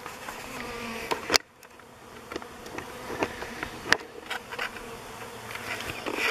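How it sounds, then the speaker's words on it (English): Honey bees buzz around newly installed nucleus hives outdoors, with individual bees droning close past the microphone in brief louder swells over a continuous background hum of many insects in the air. "Alright, a lot of bees flying around in the air."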